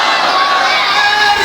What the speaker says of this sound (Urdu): ذرا ایک آواز نعرے کی صورت میں امام حسین کی محبت میں بلند ہونی چاہیے